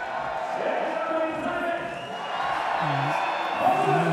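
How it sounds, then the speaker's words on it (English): Crowd of Polish fans, many in red and white caps and scarves, at a beach volleyball match between Poland and Italy, a steady murmur with light cheering that stays moderately loud throughout, while a commentator talks over it. "Decent crowd"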